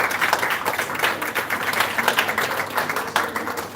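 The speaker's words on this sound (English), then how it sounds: "Give her a big round of applause." An audience applauds a guidance counselor at a Jamaican ceremony honoring outstanding counselors, a close, continuous patter of many hands clapping with a lightly pulsing rhythm and no talking over it.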